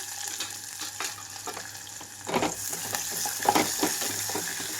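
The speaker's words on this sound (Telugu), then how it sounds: "తాలింపు వేగిపోయిన తర్వాత కట్ చేసి పెట్టుకున్న ఉల్లిపాయలు మిరపకాయలు అలాగే కరివేపాకు వేసుకున్నాను" Chopped onions, green chillies and curry leaves frying in a tempering for a Malabar spinach and chana dal curry, giving a close crackling sizzle with scattered spoon scrapes that grows louder midway.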